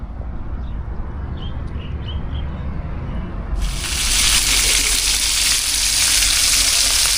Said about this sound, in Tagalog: kasalukuyan na po tayo nagpiprito ng tilapia